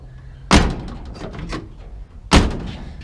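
A 1967 Chevrolet C10 pickup door is shut twice, each closing a sharp, loud slam as the latch catches, close up, with quieter handling noise and a brief pause between the two impacts.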